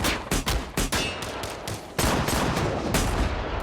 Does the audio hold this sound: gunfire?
yes